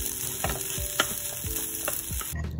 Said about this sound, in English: cooked it all together with some seasoning and soy sauce